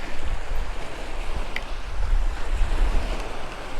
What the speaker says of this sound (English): There's always some waves coming, that's mostly just from the wind.